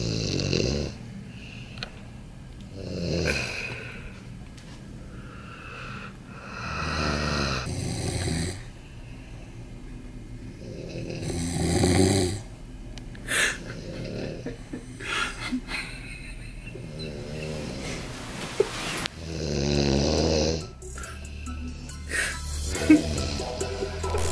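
A man snoring aboard an airplane, loud rasping snores repeating at irregular intervals with snorts and breathy gaps over a low cabin hum.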